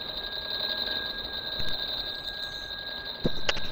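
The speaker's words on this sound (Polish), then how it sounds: "Kto tu kurwa tak dzwoni tymi dzwonkami jak pojebany?" Bells ring steadily in a PlayStation 4 video game, a continuous high metallic jangling that holds at a moderate level throughout, with a few brief louder clanks near the end and no talking.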